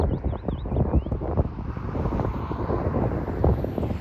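Wind gusts buffet the microphone at a coastal viewpoint on Scotland's north coast, a continuous rough rushing with irregular thumps over the whole span; a bird's brief chirps sound near the start.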